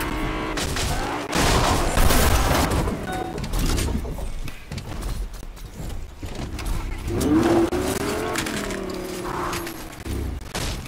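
Car driving in the Fortnite Solid Gold game mode, engine droning steadily under bursts of distant gunfire and booms, with voices talking intermittently over the game sounds.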